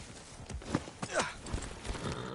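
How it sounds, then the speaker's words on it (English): Hooves of a horse in the video game Far Cry 6, a soft, uneven clip-clop of a few footfalls close by at a walking pace, fairly quiet and with no talk over it. "Look at this fancy horse and saddle."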